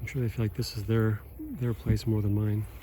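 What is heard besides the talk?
No distinct noise like a dog, phone or traffic.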